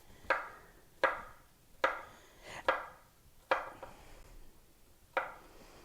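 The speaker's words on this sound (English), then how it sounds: "I'm just going to take my same knife, and I'm just going to slowly cut it" A knife slices down through a chilled log of homemade compound butter on a board, six crisp, evenly spaced cuts each ending in a sharp tap, close and clear with no talking.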